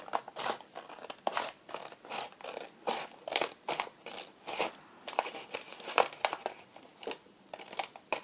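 Scissors trim along the edge of a paper envelope in a quick, rhythmic series of close, crisp snips and crinkles, each cut a sharp papery burst separated by short pauses.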